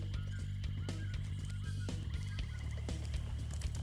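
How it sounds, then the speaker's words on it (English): Rayman bird sound effects in the Spyro the Dragon video game, a run of repeated gobbling, honking bird calls over a steady game music bed. "the Rayman bird sound effects are being used"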